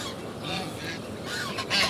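Geese at the swimming pool of a goose farm give a few faint honks over soft background noise, with a louder call near the end.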